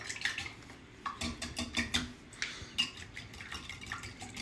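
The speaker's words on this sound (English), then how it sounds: "So 6 eggs in here. Just gonna mix that together." Six eggs beaten together in a bowl for an Italian Easter bread, with rapid, irregular wet clinks and sloshes close by, moderately quiet and continuous.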